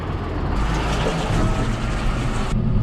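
A John Deere tractor pulling a livestock trailer rumbles steadily at close range, a loud, continuous engine and road drone with a broad hiss across the whole stretch.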